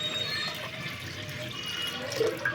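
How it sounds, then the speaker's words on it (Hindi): Tap water runs steadily into a pressure cooker in a home kitchen, a continuous close hiss and splash with small gurgling changes near the end. "कुकर में पानी रखते हैं।"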